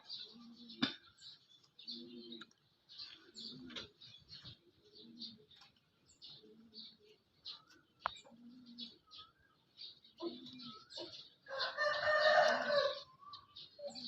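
A black-green Yiar rooster, about six months old and weighing 2.5 kg, gives a series of short, close clucks and calls, then one louder, drawn-out crow near the end, with no talking.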